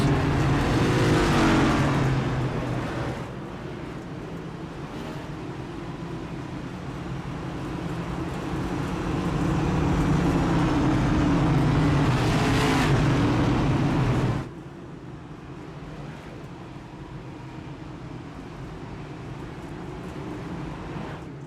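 Race cars roaring on the Bristol Motor Speedway dirt track in a NASCAR game, a loud pack of engines swelling and surging past, then dropping to a softer steady drone.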